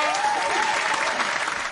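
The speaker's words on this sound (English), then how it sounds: "So one more round of applause to our 2 finalists." Applause for two finalists at the close of a casual competition, a steady, fairly loud wash of clapping from a crowd lasting the whole moment, with a faint voice briefly audible over it.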